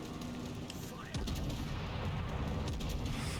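Naval gunfire in World of Warships during a ranked battle, a heavy boom near the one-second mark followed by a sustained rumbling barrage of shots and explosions under constant game noise.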